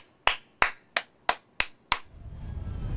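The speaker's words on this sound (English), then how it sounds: "Clap your hands." Hands clapping six times in an even, steady rhythm, each clap sharp, close and loud with a quick decay, followed by a low rising rumble of background noise.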